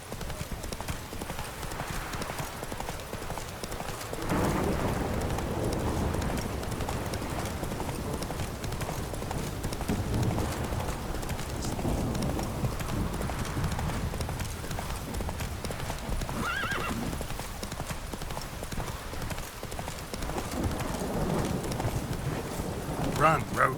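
In the video game The Witcher 3, the horse Roach gallops in a fast, steady clip-clop of hooves that stays close and loud, with wind noise and occasional game sounds.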